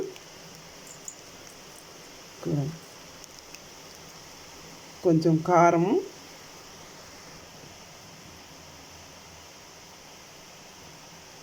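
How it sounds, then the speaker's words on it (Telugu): Heavy rain falls outside a kitchen where palli pakodi batter is being mixed, a steady far hiss running throughout while a person talks briefly twice over it. "వర్షం పడుతుందండి, బయట బాగా వర్షం పడుతుంది."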